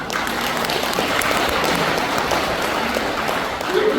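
A lecture audience at a Korean hometown association's humanities talk gives steady applause, a dense crowd of hands clapping close and fairly loud throughout, with a few voices faintly mixed in.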